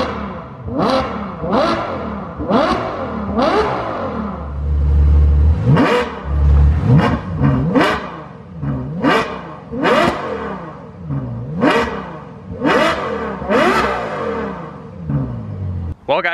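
A Ferrari FF fitted with a new X-pipe exhaust revs hard and close by, its engine rising and falling in a steady series of about a dozen sharp blips that each climb quickly to a howl before dropping back.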